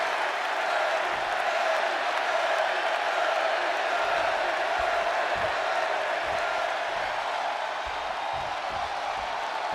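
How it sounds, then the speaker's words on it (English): A video game arena crowd in Chicago roars in a steady, dense wash of cheering and shouting during a WWE 2K26 CM Punk match, loud and continuous with scattered low thumps. "And just listen to this crowd here in Chicago."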